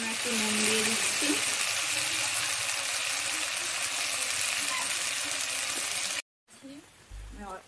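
Spices fry in a pan for a gathi kochu and prawn curry, making a continuous close sizzle with light crackling. A few low sounds come through underneath, and after a brief cut a quieter burst of hissing and clatter follows.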